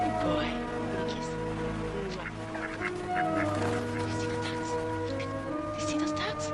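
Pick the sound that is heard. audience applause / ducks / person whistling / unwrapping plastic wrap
ducks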